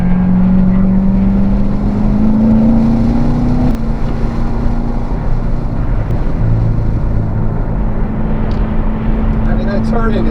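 A 2017 Corvette Grand Sport Collector's Edition drives hard on a race track, its engine droning steadily and close with a rising pitch that resets mid-way, under wind rush and someone talking throughout.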